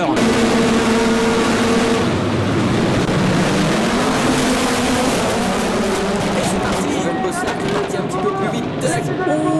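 Onboard a race car with a 1.6 litre engine pushing past 130–140 km/h on a circuit, its engine droning loudly and steadily throughout with rising and shifting tones, under continuous excited commentary.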